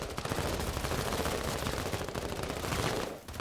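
Dense, continuous gunfire from the video game Menace, with loud overlapping shots and bursts filling the whole stretch before a brief dip near the end.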